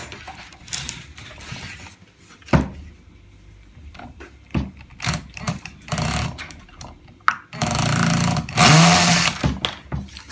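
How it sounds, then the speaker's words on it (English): A cordless drill runs in short bursts and then one longer whir, backing out the two Phillips screws that hold the air filter cover on a mini moto engine. The sound is close and has clicks and handling noise between the bursts. "We'll use the drill for that"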